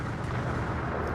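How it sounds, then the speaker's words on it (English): Game explosions in Code: Realize going off one after another, a dense, continuous rumbling roar that stays loud and steady throughout with no pauses. "Explosions go off one after another."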